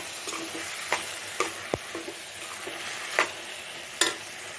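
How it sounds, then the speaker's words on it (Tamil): Ground masala paste sautéing in a pan for a quick gravy gives a quiet hiss, marked by several brief spatula strokes and taps spread at irregular intervals, no voices. "அந்த அரைச்ச மசாலாவை நம்ம போட்டுடலாம் நல்லா மிக்சி எல்லாம் நல்லா வலிச்சு ஊற்றிடுங்க போட்டு இதை நல்லா ஒரு நிமிஷம் நல்லா வதக்கி விடுங்க"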